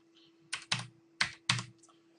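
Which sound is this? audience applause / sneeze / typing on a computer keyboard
typing on a computer keyboard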